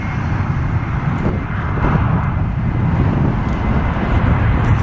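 Airliner landing at Atlanta Hartsfield in strong crosswind, a loud, steady jet roar with gusty wind noise on the microphone, broad and sustained throughout without talk.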